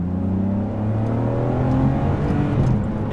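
A Ferrari 599 HGTE engine blips its throttle in a loud, close, continuous roar with rising harmonics that swell and settle across about three seconds, with no talking.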